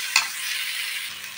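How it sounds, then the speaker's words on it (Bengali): Boiled chow mein noodles are stirred into fried vegetables in a hot pan, with a soft steady sizzle, one sharp scrape of the utensil near the start, and close, fairly quiet frying throughout. "এবার এর মধ্যে দিয়ে দিচ্ছি চাউমিনগুলো, দিয়ে ভালো করে একটু নেড়ে চেড়ে নেব।"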